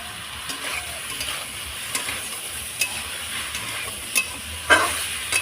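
Cauliflower curry with spices frying in a pan, a soft steady sizzle under periodic scraping strokes of a spoon stirring the mixture, close and fairly quiet with no talking.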